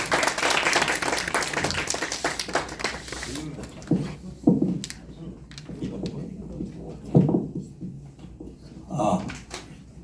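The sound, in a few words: audience applause welcoming speaker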